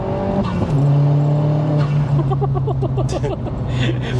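A self-built 310 bhp Vauxhall Astra VXR, front-wheel drive with a manual gearbox, revs and pulls away with a loud, droning engine note heard up close, followed by a quick run of crackling pops on the overrun.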